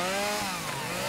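A chainsaw runs steadily and loudly at close range, its engine holding one continuous high buzzing whine with no pauses, during tree cutting outdoors.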